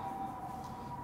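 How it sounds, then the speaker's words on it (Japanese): Outside, an ambulance siren holds a steady tone, faint and distant, under constant room noise and a low background rumble. "外で救急車が鳴っていますね。"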